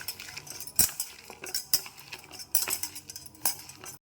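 A spoon stirs salt into sliced onions in a bowl for a fried raw-banana dish, giving a run of close scraping clinks with sharper metallic knocks that repeat through the clip. Nobody speaks.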